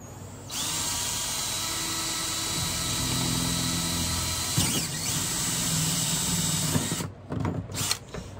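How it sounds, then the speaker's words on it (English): A power drill whines loudly and steadily while boring a hole in a reservoir tank, pausing briefly near the end before a few short bursts. "we're gonna drill another one of those holes"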